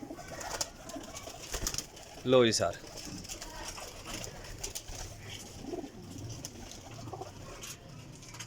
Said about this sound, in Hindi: ਵੱਡੇ ਸਾਈਜ਼ਾਂ 'ਚ ਮਾਸ਼ਾਅੱਲਾ ਪੂਰੇ ਉੱਡਣ ਵਾਲੇ ਤਸੱਲੀ ਬਖਸ਼ ਕਬੂਤਰ